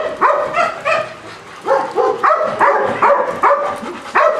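Several dogs in a kennel on a rainy day bark and yip loudly and close by in irregular bursts, one bark overlapping the next, with some whimpering mixed in.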